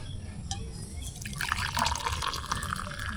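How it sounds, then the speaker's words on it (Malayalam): Black tea made on a small portable mini gas stove is poured into a glass, a short close trickle of liquid rising in pitch as the glass fills. "ചായ നമ്മളൊരു ഗ്ലാസ്സിലേക്ക് ഒഴിക്കാം."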